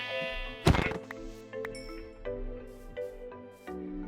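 Sheep bleat in the Minecraft Twilight Forest video game, with several short wavering bleats at close range. A sharp thunk and small game effect sounds break in between them.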